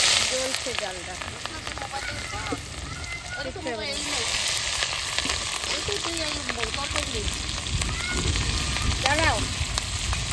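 Nigella seeds, dried chili, garlic and onion fry in hot oil with a steady sizzle, while voices talk over it for most of the time.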